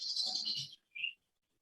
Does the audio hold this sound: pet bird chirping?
yes